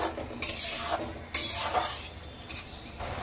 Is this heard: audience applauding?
no